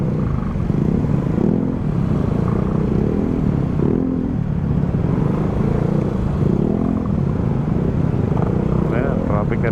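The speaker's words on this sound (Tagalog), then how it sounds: "Ayan, traffic na traffic." Rush hour traffic in Calicanto, Batangas City: a steady, loud wash of motorcycle and car engines close by, with rumbling and clatter running the whole time and no one talking.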